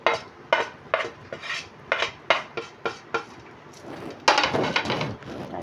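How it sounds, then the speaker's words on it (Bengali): A utensil stirs chicken soup with onion greens, cumin and peppercorns in a pot, scraping and clinking in about a dozen distinct rhythmic strokes, closing with a busier rattling swirl; nobody talks. "একটু ভালো করে নাড়িয়ে"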